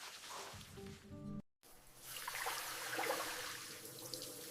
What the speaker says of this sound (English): This shower feels refreshing and makes me energetic now.